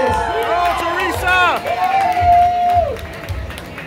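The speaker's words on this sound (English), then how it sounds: "Everybody, let's make a round of applause for our five finalists." A casino crowd applauds and whoops for five finalists, scattered claps and cheers under a loud excited voice calling out over the room.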